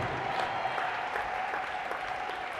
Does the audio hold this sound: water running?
no